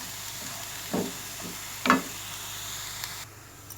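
Onions fry in oil in a pan for fish katakat: a soft, low hiss of frying, broken by two brief spoon scrapes or stirs and a faint clink near the end.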